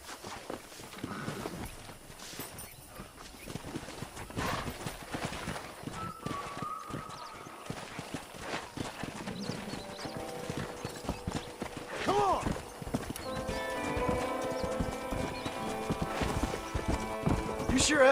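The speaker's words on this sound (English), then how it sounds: "Let's see if we can't wrangle some horses." Horses in the Red Dead Redemption Western video game, hooves clip-clopping at a walk with an occasional neigh, joined by game music and character voices talking.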